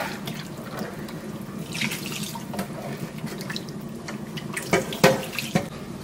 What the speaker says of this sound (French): je mis de l'eau